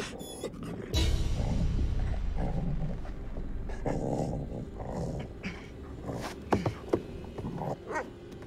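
A dog in The Devil In Me video game whimpering and growling, with low rumbling growls and a few short sharp yelps toward the end amid game ambience.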